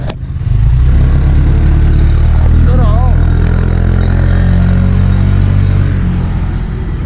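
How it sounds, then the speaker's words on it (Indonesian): Motorcycle engine labouring up a steep hill on the road to Taman Langit Bandung, a loud, close, sustained low drone with rough strained revving throughout, and a brief high squeal partway through. "Kuat motornya, udah panas. Gak kuat ya, Naik nanjak."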